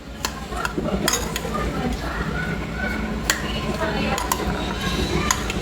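A spoon stirs a salad dressing of Kewpie mayonnaise, honey mustard sauce, yogurt, pepper and salt in a bowl, making steady scraping and light clinking against the dish, with faint kitchen noise around it.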